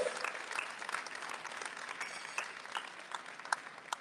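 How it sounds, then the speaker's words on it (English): Guests at a Philippine-American chamber of commerce dinner in Houston give a fairly quiet round of applause, a steady patter with a few sharper claps standing out near the end. "Take your applause and your bow"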